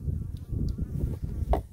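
Flies buzzing around an outdoor griddle while homemade pizza sauce is made, a low droning hum near the listener, fairly loud and fluctuating as the insects move, with no talk.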